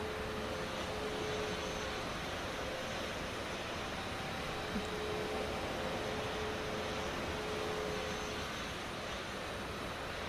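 Airbus A320 jet engines in Microsoft Flight Simulator during an attempted landing, a steady, even broadband roar with a faint tonal whine held throughout, no talking.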